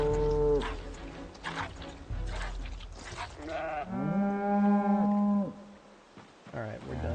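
Cows in the Project Zomboid video game let out several drawn-out moos, close and clear, with short pauses between calls and a faint voice at moments.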